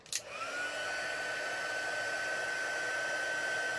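A heat gun blows hot air over white craft ink, starting with a short click and rising into a steady, close, whining hum that holds at an even level throughout.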